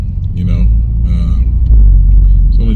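A 650+ hp Porsche 991 Turbo engine rumbles with a deep, steady low drone, swelling louder toward the end, while someone talks over it nearby.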